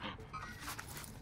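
A dog in a shooter video game barks and whines in a short, busy burst, mixed with game noise and dense gunfire-like clatter.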